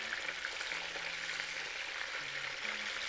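Pike perch pieces browning in hot oil in a pan make a steady, dense sizzle with a continuous crackle that holds even and close throughout.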